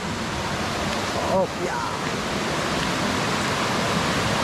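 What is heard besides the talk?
flowing water of a stream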